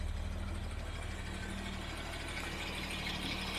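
A classic car engine idling steadily, smooth and even with a constant low rumble close by, no revving and no voices.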